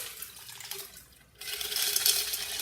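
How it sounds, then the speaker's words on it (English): A classic gin martini pours from a shaker into a five-ounce martini glass over olives, a soft liquid trickle that begins after a brief pause and continues steadily, fairly quiet, with no talking. "I usually put my olives in first, and then I go ahead and give it a pour."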